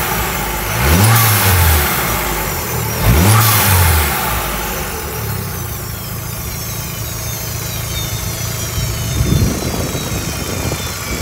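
Proton Exora turbo engine revving twice in sharp bursts, each followed by a blow-off valve release, then settling into a steady idle with a faint final blip; loud and close.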